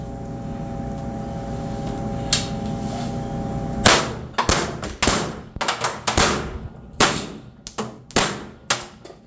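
A Pepperball launcher with a drum magazine fires a rapid series of close, sharp pneumatic shots after a steady hiss, with an uneven rhythm and a slight sputter between bursts.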